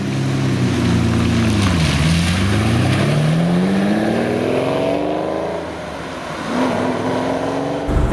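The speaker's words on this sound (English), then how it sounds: "We're driving a Countach." Lamborghini Countach engine heard from inside the car while driving, a loud, continuous close roar that rises and falls in pitch as it revs through gear changes, with no talk.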